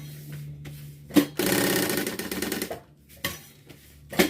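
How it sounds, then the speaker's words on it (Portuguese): A sewing machine stitching the fabric lining of a pencil case runs in a quick close burst of rapid mechanical chatter, framed by soft clicks and handling knocks before and after. "Uma costura bem na beirinha."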